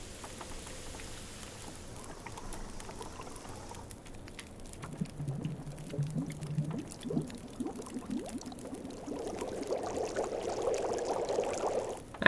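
Water is poured into a container in the video game The Long Dark, with a quiet trickle that builds into a rising, gurgling fill, growing louder toward the end.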